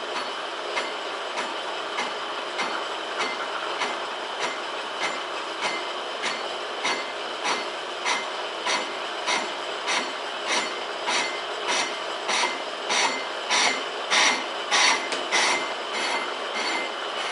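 A lathe cuts a train wheel on an interrupted cut, giving a steady rasping, scraping tone with rhythmic periodic pulses that grow louder toward the end; close and continuous, no talking.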